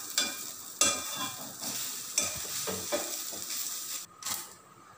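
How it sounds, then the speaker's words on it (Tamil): Grated coconut sautéing in a pan at home, a soft steady sizzle broken by several scraping stirs of a spatula, close and moderately loud with no voices. "ஒரு மொடி தேங்காய் எடுத்து வச்சுருக்கேன், பூவை திருவி அதையும் போட்டு வதக்கிடலாம்."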